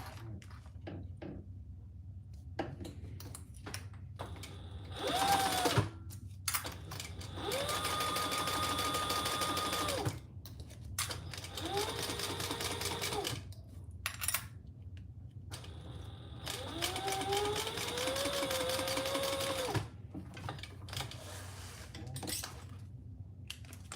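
A sewing machine top-stitches a seam in repeated runs of steady whirring, with short pauses and handling clatter between the passes.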